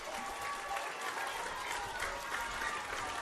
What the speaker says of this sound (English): It's his applause from the crowd after a great performance going forward for Tigers